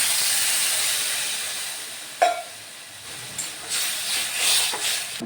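Water splashed into a hot pan while cooking a chutney, giving a broad steady hiss of steam that slowly fades, then a sharp crackle and renewed sputtering bursts, close and fairly loud with no talk.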